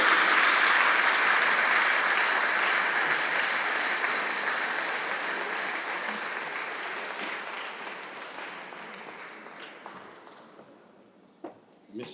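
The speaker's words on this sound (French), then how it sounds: "je vous demande donc d'applaudir Claude et les bénévoles de l'entreprise" Applause for volunteers at an aviation museum inauguration in Provence starts loud and dense, then thins gradually over several seconds into a few scattered claps.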